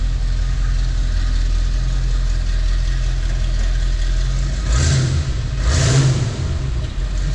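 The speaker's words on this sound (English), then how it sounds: "Vehicle starts right up." A restored 1957 Chevrolet Corvette engine runs with a steady low idle rumble close by, then gives two short revs that swell and settle back.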